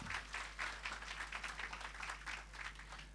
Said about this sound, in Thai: ขอเสียงปรบมือได้ครับ